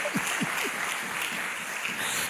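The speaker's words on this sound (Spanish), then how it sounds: "Da un aplauso al Señor." A church congregation applauds in a broad, steady wash of clapping, moderately loud and continuous, with a few brief vocal sounds at the start.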